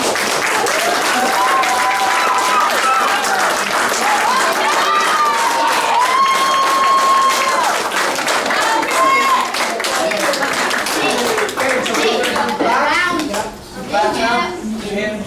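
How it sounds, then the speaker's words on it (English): A crowd of families and young players claps and cheers loudly and continuously in a team room at a youth Under-9 Wildcats championship celebration, with children's voices and some speech mixed through the long, dense applause. "I want everybody to give a big round of applause."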